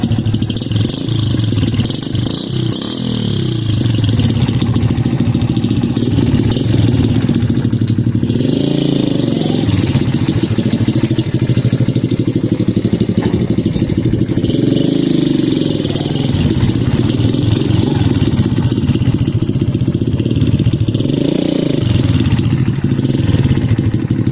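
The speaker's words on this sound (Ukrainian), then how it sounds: "бачимо, мотоцикл завівся" A Spark SP125C-2AMW motorcycle engine idles steadily and loudly, a continuous rumbling putter with mechanical clatter that holds throughout.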